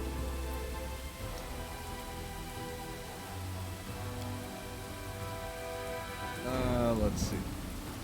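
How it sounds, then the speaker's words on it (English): Steady rain hisses in the Pathfinder: Wrath of the Righteous video game, a soft continuous patter under background music, while someone speaks briefly over it. "It's raining and terrible"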